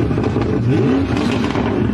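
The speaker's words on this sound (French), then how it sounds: "ça fait un bruit de psychopathe. Vraiment, c'est une Bentley le truc" A Bentley engine revs hard in a short burst, its low rumble rising and falling close by with a rough, aggressive edge and no talk over it.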